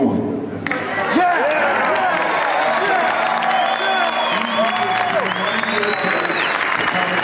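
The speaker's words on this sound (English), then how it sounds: "Everybody's booing." A bodybuilding show crowd in a large venue booing and jeering, a dense, sustained roar of many voices with whoops and some clapping that swells and stays loud throughout.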